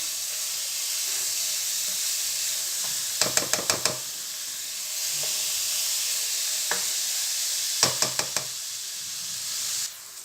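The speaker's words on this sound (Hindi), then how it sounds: "दाल को अच्छे से भूनेंगे, मीडियम आंच पे इसे भूनेंगे तकरीबन 15 से 20 मिनट।" Moong dal roasting in a pan over medium heat, a steady soft hiss broken by two quick bursts of rapid metallic knocks and scrapes as the spoon stirs and taps against the pan.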